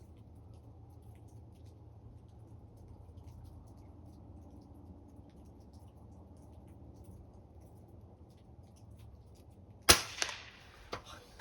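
A single sharp rifle shot cracks out at the range after a long quiet stretch, loud and close, with a brief echoing tail.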